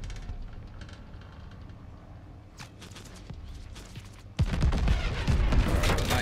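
Tracer gunfire in the Call of Duty: Vanguard campaign, at first distant scattered bursts under a low rumble, then a sudden loud barrage of rapid shots that keeps going to the end.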